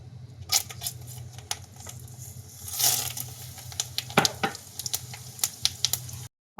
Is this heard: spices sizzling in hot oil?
yes